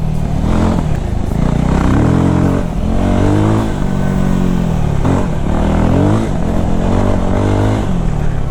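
A Voge 300 Rally motorcycle pulling away in third gear, its single engine loud and close, droning as it revs up and down in several surges, with no talking.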